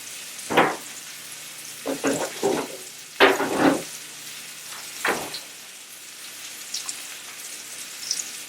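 Mushrooms and spring onions frying in a pan, with a few bursts of sizzling and stirring rising and falling close by, separated by quieter stretches of faint crackle.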